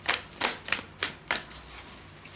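Tarot cards being shuffled up close, five quick crisp riffling bursts at an even rhythm followed by a softer fading rustle, no voices.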